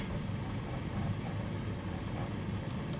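Airplane rolling to a stop after landing in a flight simulator game, a steady broadband engine drone holding at a constant moderate level for the whole stretch, with no talk.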